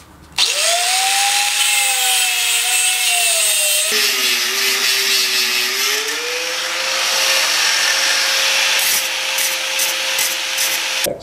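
A 1-inch metal tube cut through with a power cutting tool: a loud, continuous grinding whine whose pitch sags and wavers under load, running steadily for about ten seconds with no talking.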